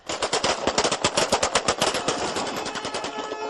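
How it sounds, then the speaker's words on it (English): Rapid bursts of celebratory automatic gunfire in the streets of Sirte, Libya, rattle continuously, dense overlapping shots at close range that thin slightly toward the end, with no speech. "these men who filled the streets of Sirte with celebratory gunfire"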